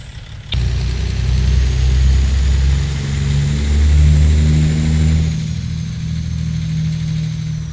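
A Freightliner Classic FLD truck engine in American Truck Simulator, heard after a sharp click as a deep steady diesel drone that rises slightly, holds, then settles, loud and close with no talk.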